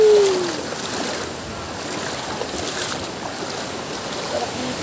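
Ocean waves wash and break at Bagasbas Beach, Daet, Camarines Norte, in a steady broadband roar, loud at the start and then rolling on evenly.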